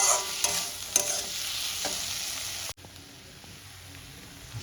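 Potatoes being stir-fried in a pan for a rohu fish curry, a soft sizzle with scraping stirs and a few clicks that cuts abruptly to a quieter, duller simmer partway through, close and faint.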